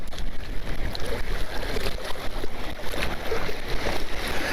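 Wind gusting over open water on a chilly winter fishing outing, a continuous rough rushing noise with choppy lapping and buffeting, fairly close and with no voices.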